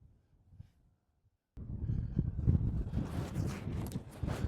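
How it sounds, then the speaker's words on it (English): Strong wind buffets the microphone on an open ranch during calving, starting after a near-silent moment and then roaring in uneven gusts for the rest of the clip. "It's really windy."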